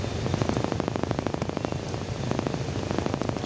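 Steady rain falls in a dense, even hiss, close and continuous, with no one talking.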